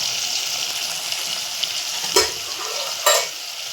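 Guar bean curry sizzles steadily in a pan, seasoned with salt, garam masala and raw garlic chutney, while a utensil stirs it with two distinct scraping clinks against the metal.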